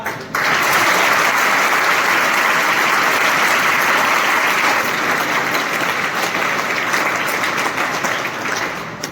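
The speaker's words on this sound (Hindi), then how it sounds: "आप सबके लिए जोरदार तालियां।" Sustained, loud applause from a crowd at a direct-selling seminar starts abruptly and holds steady, then gradually eases toward the end, with only faint voices beneath the clapping.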